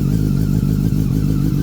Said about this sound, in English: from what I heard, it didn't really crank over any faster than the other one.